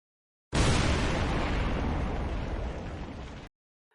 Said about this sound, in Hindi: फिर अचानक एक भीषण विस्फोट, एक मोर्टार गोला उनके पास आकर फटा।